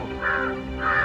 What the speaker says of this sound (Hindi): कौआ जा रहा है